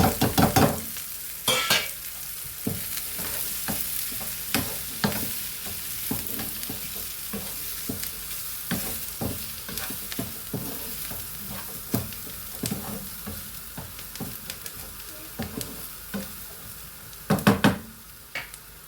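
Browning onions with added spices for a paneer curry fry in a pan under a steady soft sizzle, punctuated throughout by repeated scraping strokes of a spoon stirring, with a louder cluster of stirs near the end.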